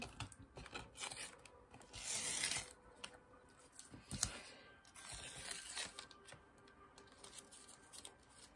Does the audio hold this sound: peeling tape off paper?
yes